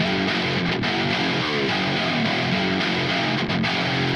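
Heavily distorted metal guitar riff in a Doom Eternal style, dense and loud throughout with a chugging, sustained low-mid texture and no talking.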